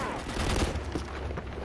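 Rapid gunfire in the Call of Duty 4 shooter, a dense, continuous burst of overlapping shots that fills the short moment with little pause, fairly loud and close.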